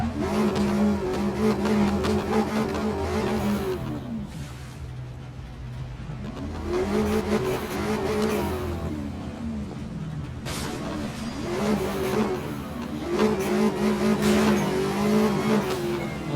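A Lamborghini Aventador's engine roars in the Need for Speed Most Wanted racing game, rising and falling through repeated loud revving sweeps, with brief dips between gear changes and faint talk underneath.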